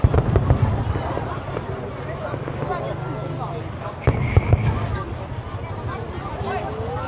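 Fireworks go off at a Lao Independence Day 50th anniversary celebration as a run of sharp pops and crackles, with outdoor crowd noise and wind. A person talks nearby over the bursts.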